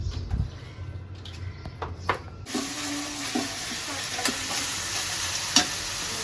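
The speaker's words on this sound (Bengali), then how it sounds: "মশলাটা কষানো হয়ে গেছে" Bengali spice paste is stirred and fried in a pan, giving a steady close sizzle that turns brighter and louder partway through, with scraping stirs and a few clinks.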